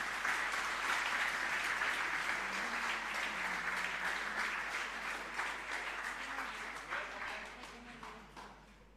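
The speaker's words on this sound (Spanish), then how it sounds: "con un fuerte aplauso acompañamos este regalo" Parish congregation in Asunción claps loudly for a gift of strawberries, a strong round of applause that gradually fades, with a voice speaking faintly underneath.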